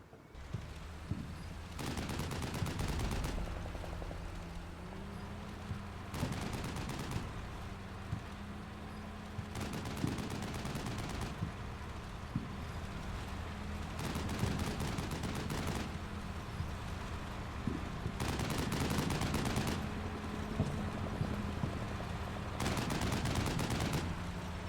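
Repeated bursts of gunfire poured into a building in Combat Mission Shock Force 2: several long automatic volleys at fairly even intervals, each several seconds long, over a continuous low rumble of vehicle engines.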